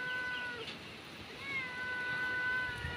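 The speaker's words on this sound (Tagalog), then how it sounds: "May pusa." A hungry cat meows outdoors, asking for food: a thin, drawn-out meow near the start and a longer one later, faint against a quiet open-air background.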